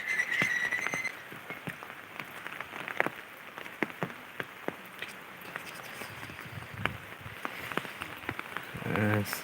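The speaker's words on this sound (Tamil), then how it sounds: "நம்ம ஏரியாவில் பார்த்தீங்கன்னா தொடர்ந்து ரெண்டு நாளாக மழை பெஞ்சிக்கிட்டு இருக்குங்க" Rain falls steadily around a country chicken farm after two days of wet weather, with scattered raindrops pattering and tapping on surfaces at moderate volume.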